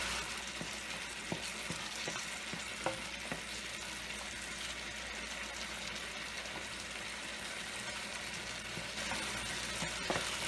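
Vegetables with tomato sizzle in a pan for vegetarian stir fry pasta, a continuous crackling fry with light scraping taps of stirring throughout.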